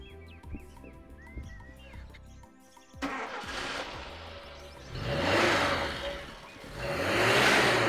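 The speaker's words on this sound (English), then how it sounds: "Are you done warming the car?" After birdsong and background music, a car engine starts and revs in rising and falling surges while warming up, growing louder toward the end.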